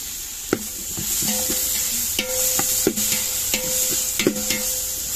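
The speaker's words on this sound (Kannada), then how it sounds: "ಟೊಮೆಟೊ ಬುಕ್ಕ ಕಾಯಿ ಮುಂಚಿ ಪಾಡುಂದಿಲ್ಲ ಒಟ್ಟಿಗೆ ಇದನ್ನೇ ಎಡ್ಡ ಫ್ರೈ ಮಾಡ್ತದ" Onion and tomato fry together in a hot pan, a steady sizzle running throughout while a utensil scrapes and stirs in repeated strokes, close and fairly loud with no talking.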